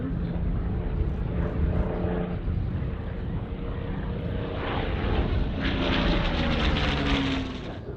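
A P-40 fighter's piston engine drones overhead at the Duxford Battle of Britain airshow, a continuous loud rumble that rises and shifts in pitch as it passes, heard alone without voices.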